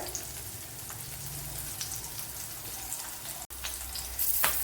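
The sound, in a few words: frying in a pan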